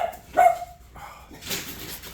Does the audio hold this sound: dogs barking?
yes